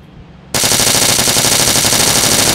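Sudden loud automatic gunfire in the video game Arma 3 bursts in after a quiet moment, then continues as a rapid, continuous stream of shots at close range.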